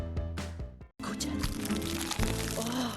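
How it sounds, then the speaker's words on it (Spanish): Crackling crust of a loaf of bread, heard as a run of sharp crunchy crackles close up, with a brief pause midway and then denser, continuous crunching. "Ni el aroma, ni el color, por el sonido de la corteza."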